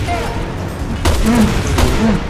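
Explosions and gunfire in the Resident Evil 6 Leon campaign, two sharp booming hits about a second apart with a steady game-sound rumble under them, while someone speaks throughout.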